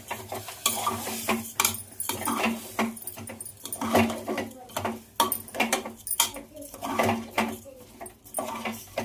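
Rice and lentils for khichdi being stirred in a pot with a spoon, producing repeated scraping, clattering strokes in an uneven rhythm, fairly close and steady throughout.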